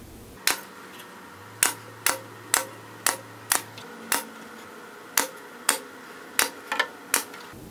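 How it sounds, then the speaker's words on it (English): A staple gun fixes trim strips of upholstery onto the seat frame of an antique L & JG Stickley #232 settee. About a dozen sharp, close snaps come at irregular intervals over a low background hum. "we'll put a couple inconspicuous staples in there"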